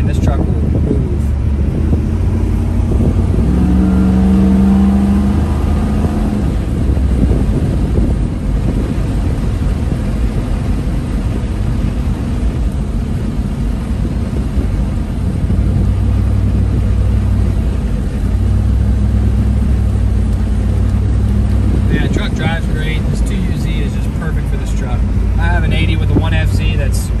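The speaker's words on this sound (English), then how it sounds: "So you'll see it's very bumpy, but man, this truck will move." A 2UZ V8-swapped Toyota Land Cruiser 80 series drives over bumpy off-road terrain, its engine droning steadily under heavy wind buffeting on the microphone and occasional rattles from the cabin.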